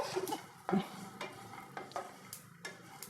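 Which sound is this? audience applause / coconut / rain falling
coconut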